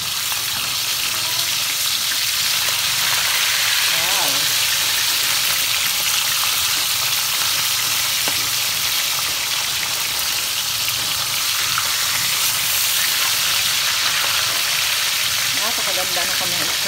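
Tilapia pieces fry steadily in hot oil in a pan for ginataang tilapia, a continuous dense sizzle and crackle holding close and loud throughout.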